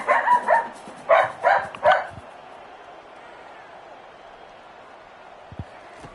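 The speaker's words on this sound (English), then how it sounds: "My dog is very excited that you're joining me here today." A small dog barks and yips in a few excited bursts near the start, close and fairly loud, then falls quiet under a low background hum.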